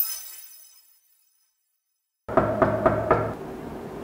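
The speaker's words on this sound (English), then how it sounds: "Someone's at the door." Four quick, firm knocks on a dorm room door at a university residence, close and sharp, following a moment of silence.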